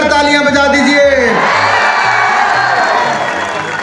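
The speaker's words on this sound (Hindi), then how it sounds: "होकर जोरदार तालियां बजा दीजिए।" A large crowd at the launch of a sports festival cheers and shouts loudly, with whoops and a sustained roar close by that slowly fades.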